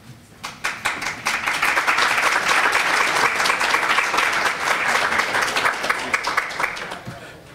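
Applause breaks out for sponsors at an EMS conference opening ceremony, building quickly from scattered claps into dense sustained clapping from a large crowd, then thinning to a few claps at the end.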